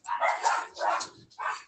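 Dogs bark at home during an online meeting, three sharp, fairly loud barks in quick succession, close by and with no talk over them.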